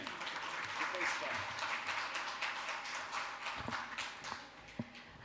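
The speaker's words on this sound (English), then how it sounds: "A big applause for him." Audience applause at a doctorate conferring ceremony, a sustained spread of many hands clapping at moderate distance, with a few sharper close claps toward the end.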